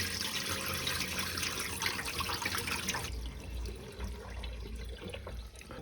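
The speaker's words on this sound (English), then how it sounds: "Now, I remove as much water as I can" Water wrings and trickles out of soaked stale bread squeezed by hand over a bowl for a Neapolitan breakfast, a steady close wet dribbling that thins and quiets toward the end.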